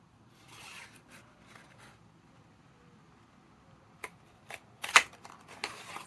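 Paper is cut into a 1.5 inch piece, with a few soft rasping strokes followed by sharper, close snips near the end, separated by quiet gaps.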